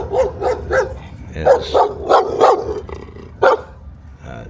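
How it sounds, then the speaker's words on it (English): Several dogs running loose in a small town bark repeatedly in short bursts, fairly close and loud, with a brief pause and a final bark near the end while someone talks over them. "dogs just running loose everywhere."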